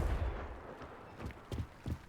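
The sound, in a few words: Confringo fire spell blast in the video game Hogwarts Legacy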